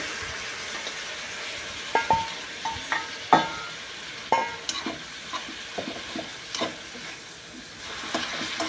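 Tomatoes and capsicum frying with salt in a pan, giving a steady close sizzle with scattered stirring scrapes and clinks throughout.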